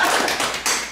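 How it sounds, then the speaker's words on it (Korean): Applause rises from the audience at a Jeonju business CEO forum gathering after a committee chairman is thanked; a dense, steady patter of many hands clapping fills the short moment on its own, with no talk over it. "박수 한번 부탁드립니다"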